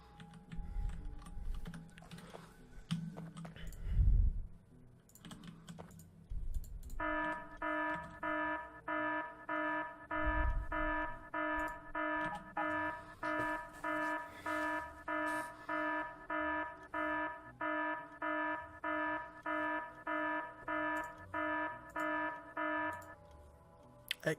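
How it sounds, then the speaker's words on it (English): A habitat alarm in the video game Factorio beeps in a steady, repeating electronic pulse of harmonic tones for about seventeen seconds, over computer keyboard typing and clicking. "Habitat alarm."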